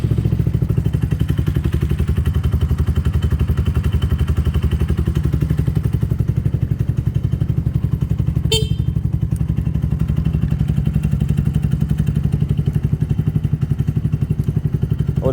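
Benelli motorcycle engine idling steadily at close range, a continuous low throbbing run with a brief clatter partway through, no talking.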